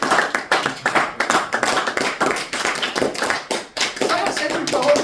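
A church congregation claps together in praise of the Lord, the sharp, dense hand claps coming in quick rhythmic bursts with voices mixed in under the applause.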